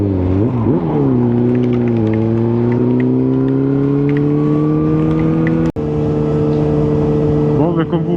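A motorcycle engine idles loudly nearby, its pitch rising and settling with small revs, with a brief sharp knock partway through.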